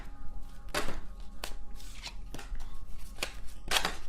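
Tarot cards being shuffled by hand, a series of sharp riffling bursts separated by short pauses, close and fairly crisp against a faint steady hum.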